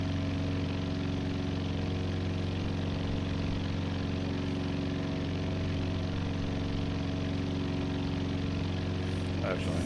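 Steady droning aircraft engine in a flight simulator, held at around 2400 RPM, a constant even hum with layered tones, unbroken and without talk.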